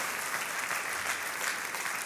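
A church congregation applauding, a steady wash of dense clapping with an even level throughout, moderately distant and without voices.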